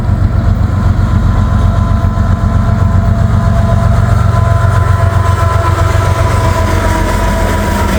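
A freight train with a locomotive and a long string of auto rack cars rolls past close by, a loud, steady rumble and clatter of wheels that holds for the whole stretch.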